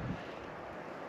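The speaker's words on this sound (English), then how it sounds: "that wind is making that strutter decoy dance" Strong wind blowing outdoors on a South Carolina turkey hunt, a steady loud rushing buffet against the microphone with no talk.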